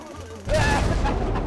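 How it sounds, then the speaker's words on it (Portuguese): A gas grenade goes off in a GTA 5 roleplay shootout, a sudden loud burst that rolls into a sustained, noisy hiss and rumble lasting past a second. "Jogaram um gás de explosão"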